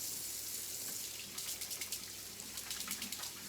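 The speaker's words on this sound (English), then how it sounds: "So let me wash my hands again." Running tap water splashing as hands are washed at a kitchen sink, a soft steady stream with rhythmic rubbing and splashing pulses, faint and close, with no talk.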